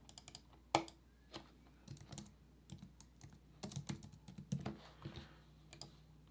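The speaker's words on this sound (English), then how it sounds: "So I'm gonna type this explore and do this outdoors." Typing on a computer keyboard while working in a web-based design tool, a quiet, close series of irregular key clicks and taps with brief pauses between bursts.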